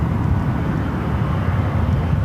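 American Airlines airliner landing on runway 28 right at San Francisco, a steady broad low roar of jet engines and rushing air holding at even loudness throughout, heard from a distance with no voices.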